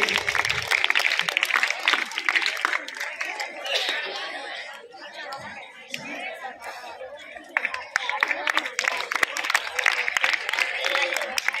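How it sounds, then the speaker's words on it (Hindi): Children at a Republic Day prize distribution receive enthusiastic applause, bursts of dense clapping with crowd chatter and light laughter, easing in the middle before swelling again. "जोरदार तालियों से बच्चों की हौसला अफजाई कीजिए।"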